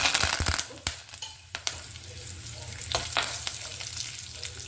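Asafoetida and curry leaves hit hot oil in a pan while bitter gourd palya is being cooked, giving a close steady sizzle and crackle with sharp pops and stirring clinks scattered throughout.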